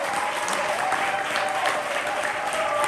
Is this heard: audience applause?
yes